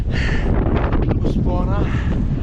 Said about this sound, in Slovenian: Zdaj pa vidite, piha, tako da je kar malo mrzlo.